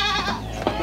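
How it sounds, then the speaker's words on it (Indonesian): An Etawa goat bleats with a wavering, nasal call while being fed in the city of Padang, the cry sounding close and fairly loud over a brief moment. "Jadi kita akan kasih makan kambing."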